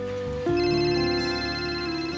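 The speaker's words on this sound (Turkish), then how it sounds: "Telefon." A telephone rings indoors with a steady electronic tone that steps up in pitch partway through and then holds, close and clear, with no talk over it.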